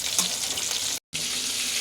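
Kebab fries in a hot pan with a steady, close sizzle and crackle, broken by a brief gap partway through.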